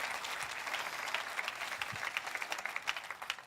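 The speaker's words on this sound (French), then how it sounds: "Jeunes et vieux, applaudissent ensemble avec moi" A church congregation of young and old people applauding together, a dense, sustained burst of many hands clapping that fills the room at moderate loudness, with no voices over it.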